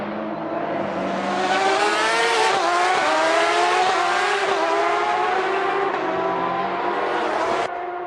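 Porsche Cup race cars at full throttle on the Magny-Cours circuit, a dense, loud, continuous engine roar with rising and falling pitch as gears change, several cars close together, ending in an abrupt cut.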